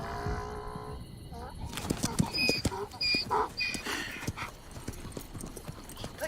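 Hooves clip-clop in an uneven rhythm on a hard surface, fairly close, with some faint background noise and occasional sharp squeaks.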